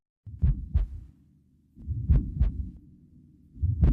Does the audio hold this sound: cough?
no